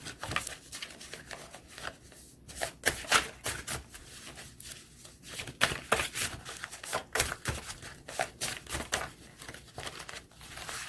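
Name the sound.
tarot cards being shuffled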